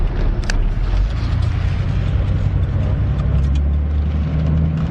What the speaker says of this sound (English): you guys will hear the motor more